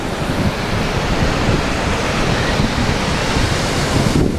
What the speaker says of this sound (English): Here comes a wave, and I gotta lift it up so it doesn't get wet.